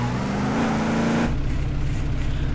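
A BMW X5 drives in the Car Simulator 2 video game, its engine a steady close hum that shifts to a lower, smoother tone about halfway through.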